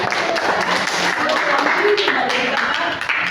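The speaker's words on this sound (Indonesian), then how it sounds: "beri tepuk tangan" A class of pupils applauding a correct answer, a steady wash of clapping with chatter and voices running through it.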